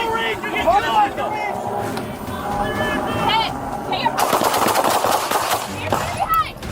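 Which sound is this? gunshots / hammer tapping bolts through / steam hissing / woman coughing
gunshots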